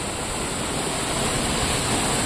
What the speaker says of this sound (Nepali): हेर्न सकिन्छ कि यहाँनिर यस्तो राम्रो झरना छ